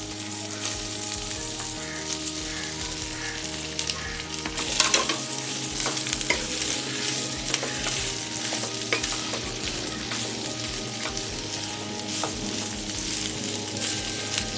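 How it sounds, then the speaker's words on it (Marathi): Potato and coriander mixture for bread pattice being sautéed in a pan, a steady close sizzle with spatula scrapes and stirring clatter, busier in the middle. "हे चांगलं आपण परतून 2 मिनिटं घेणार आहोत"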